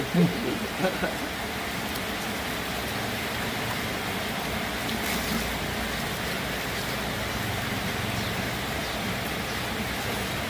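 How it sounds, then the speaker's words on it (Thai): Steady rain falls outdoors, making a continuous broadband hiss that runs unbroken and fairly even from start to finish, with a few faint louder taps near the beginning. "บรรยากาศฝนตก"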